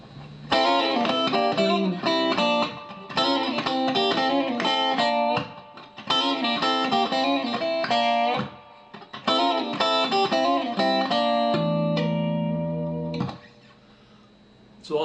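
Blues rock lead guitar lick in G played on a distorted electric guitar, quick phrases of bent and picked notes in bursts with short pauses, ending on a sustained held note; loud and close, no talking.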